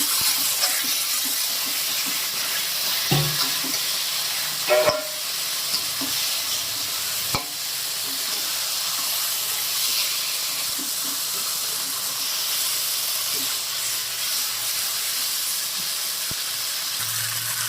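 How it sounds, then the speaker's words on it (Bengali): Chicken frying in spiced masala in a pan: a loud, steady sizzle and hiss fills the whole stretch, with a few clinks of the spoon or pan standing out above it and no talk. "মশলা কষানো হয়ে গেছে, এইবারে চিকেনটা ঢেলে দেবো।"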